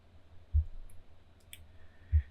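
A computer mouse clicks twice while editing a Shopify theme, two crisp, close clicks about one and a half seconds apart over a quiet background.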